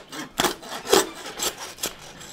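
A meat saw rasps through deer ribs during butchering, with four or five separate back-and-forth strokes spaced about half a second apart, close and moderately loud.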